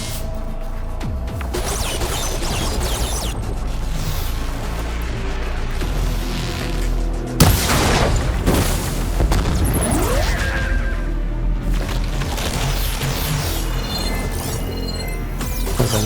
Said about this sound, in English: It's about to get loud. Heavy weapon.